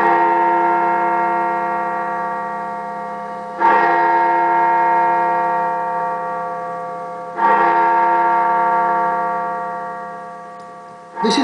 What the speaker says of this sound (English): This is the bell in the tower of Bristol University. It's called Great George after Sir George Oatley